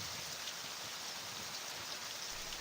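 Steady rain falls at night through thin mist, an even, dense hiss with no pauses or other sounds.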